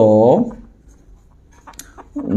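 A chemistry teacher writes on a board, leaving brief, faint scratchy strokes in a quiet pause, with a voice talking just before and after.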